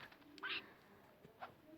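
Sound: bird

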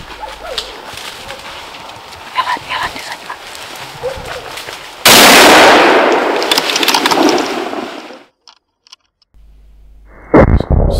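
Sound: rifle shot during roebuck hunt

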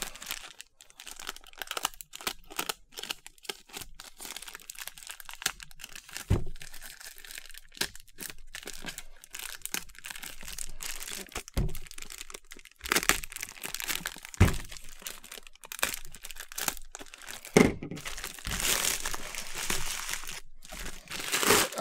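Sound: plastic wrapping being removed from a box

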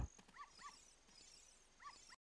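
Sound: dog whimpering in video game Zelda: Ocarina of Time

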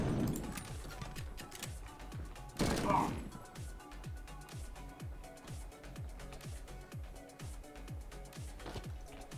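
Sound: gunshots in a video game

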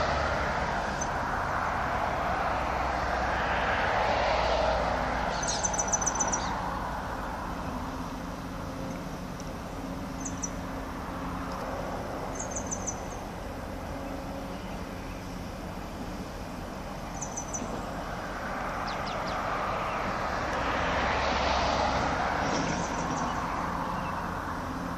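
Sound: helicopter flying near ship Marion Dufresne

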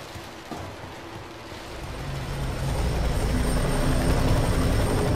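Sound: helicopter in a video game

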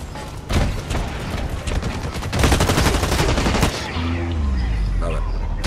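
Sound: gunfire in Blacklight Retribution video game

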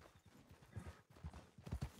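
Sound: horse hooves in a video game

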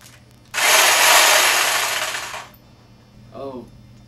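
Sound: electric hedge trimmer running

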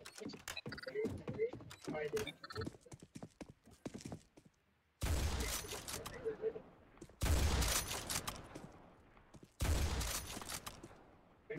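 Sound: sniper gunfire in a video game

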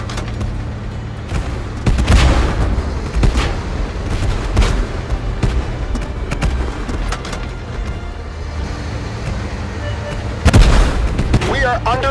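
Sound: artillery bombardment in a war video game

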